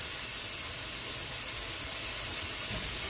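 Venison, about a pound and a half, sizzling in melted butter in a pan: a steady, dense hiss and crackle that runs without a break from start to finish, with no voices over it.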